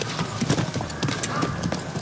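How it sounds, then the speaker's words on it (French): Horse hooves clip-clopping at a steady walking rhythm, each clear clop ringing out close and distinct in a quick regular sequence. "À dos de cheval, la vie prend le rythme d'un claquement de sabots."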